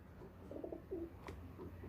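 A Teddy pigeon gives a few short, quiet coos nearby, with a brief sharp knock partway through and a soft hum underneath.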